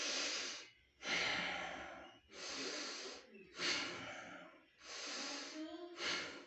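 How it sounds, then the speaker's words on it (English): Slow, deep breaths taken while lying face down in the prone position, five long airy inhale-exhale cycles close to the mic, each separated by a short pause, with no talking. "and start deep breathing."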